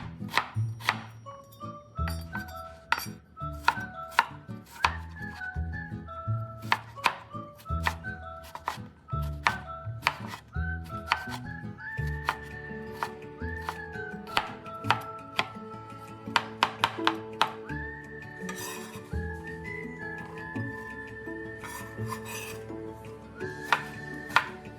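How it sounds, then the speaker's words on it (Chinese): A knife dices firm round eggplant on a cutting board in quick, irregular runs of crisp chopping taps, close and fairly quiet, with brief pauses between bursts and no voices. "再切成丁。"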